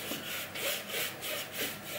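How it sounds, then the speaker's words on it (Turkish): Thin Liquid White mix of linseed oil and white paint brushed onto canvas, a soft dry scrubbing sound in steady back-and-forth strokes, close and fairly quiet with no talk. "Sonra bunu ince bir katman halinde tuvale süreceğim."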